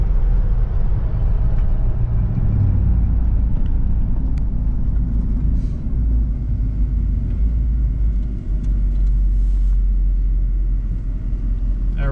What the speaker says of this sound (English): It has no problem getting up to speed. Motor is nice and tight.